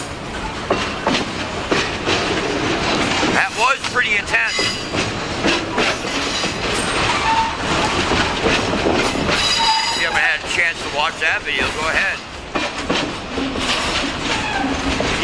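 A long freight train of over 100 cars rolls past close by, with a loud continuous rumble, rhythmic wheel clatter and shrill squeals of steel wheels, while someone talks over it.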